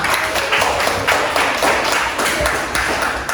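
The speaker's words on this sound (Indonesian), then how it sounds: "Berikan tepuk tangan untuk Kenzo" Pupils in a school classroom clap together for a classmate, a dense, steady patter of many hands lasting several seconds with little talk.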